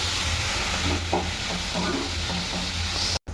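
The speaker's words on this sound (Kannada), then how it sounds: "ಇವಾಗ ಟೊಮೆಟೊನು ಕೂಡ ನೀಟಾಗಿ ಸಾಫ್ಟ್ ಆಗೋವರೆಗೂ ಫ್ರೈ ಮಾಡೋಣ" Salted tomatoes frying in a pan until soft for a Malnad chicken dish, a dense continuous sizzle and hiss heard up close with faint stirring, no voices.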